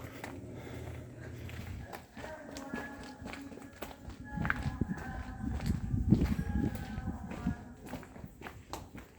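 Quick running footsteps pattering on the ground, fairly close and steady for several seconds, growing louder and busier toward the middle, with faint voices in the background.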